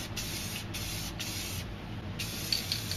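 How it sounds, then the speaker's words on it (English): A spray paint can sprays black paint in several short hissing bursts separated by brief pauses, close and steady, with faint rattles near the end. "spray some black over here for the mountains"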